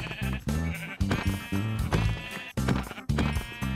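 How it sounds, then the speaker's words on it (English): Sheep in the Minecraft video game bleat repeatedly, several short nasal calls in quick succession, clear and close with no talk. "I then saw some nearby sheep and went to collect them for food."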